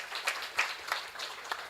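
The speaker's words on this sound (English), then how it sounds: "Can you clap for them please?" An audience claps at an Earth Hour launch and symposium event, a soft scattered round of applause with a few distinct claps standing out, heard at a distance and fairly faint.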